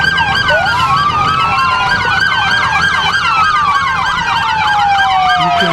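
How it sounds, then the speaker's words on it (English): Scott County Sheriff's Department vehicles, including a squad car and a Hummer, sound several overlapping wailing and yelping sirens while passing in a Christmas parade, loud and continuous over a steady hum of street noise. "You can hear all of the sirens and noise."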